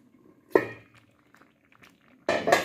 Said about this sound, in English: you put the pot cover and lean the pot cover, guys, so the porridge won't boil over in your stove.